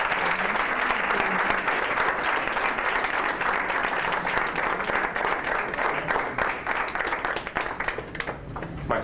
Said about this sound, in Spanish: les pido por favor que les brinden un fuerte aplauso